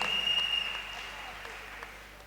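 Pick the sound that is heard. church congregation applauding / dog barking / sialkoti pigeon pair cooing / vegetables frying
church congregation applauding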